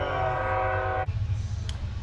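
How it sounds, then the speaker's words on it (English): Train passing close by, a steady loud rumble with a sustained multi-tone horn blast that cuts off after about a second, leaving low rolling rail noise and a brief high squeal. "excuse the train"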